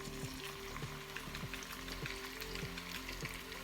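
Chopped onion and garlic sautéing in a pan for stew meat, giving a steady close sizzle with light crackle and faint stirring, under a low constant hum.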